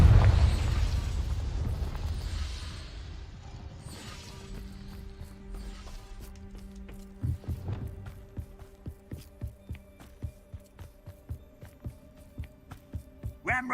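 A Confringo fire spell going off in the video game Hogwarts Legacy, a heavy rumbling blast that fades over several seconds into a low hum, then a run of quick mechanical footstep-like clicks, with no voices.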